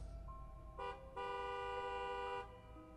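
A car horn sounds in two honks, a short toot followed by a longer sustained blast, heard alone from a moderate distance.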